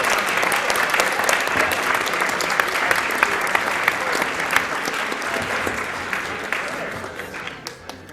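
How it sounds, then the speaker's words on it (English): An audience applauding speedrunners after a Super Mario World race finishes, a dense, loud wash of clapping that holds steady and then thins toward the end with a few isolated claps. "Everybody give the runners a round of applause."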